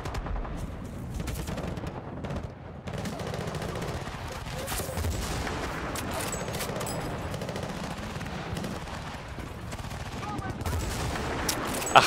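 Battlefield Bad Company 2 gunplay: bursts of automatic gunfire and single heavy shots crack close and loud over rumbling battle noise, almost without pause, with a voice talking now and then underneath.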